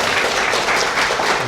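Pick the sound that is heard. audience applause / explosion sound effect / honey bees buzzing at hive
audience applause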